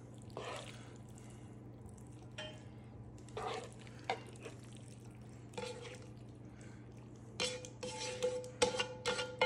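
Cooked pasta noodles are plated into a dish with utensils. Quiet, scattered wet clinks and soft scrapes come in short bursts over a low steady hum, growing busier toward the end.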